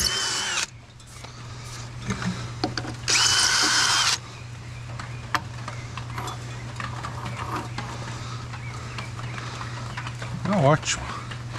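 Power drill in hammer mode boring into a masonry barbecue grill: a loud burst at the start and a second, harsher hammering burst of about a second, close by over a steady hum, with a voice speaking briefly near the end.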